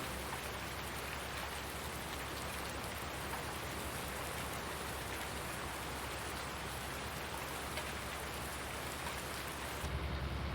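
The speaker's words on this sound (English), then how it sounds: "Got some serious rain now." Heavy rain pours in Farming Simulator 19, a dense, steady hiss of drops on surfaces that stays even and loud throughout with no talking.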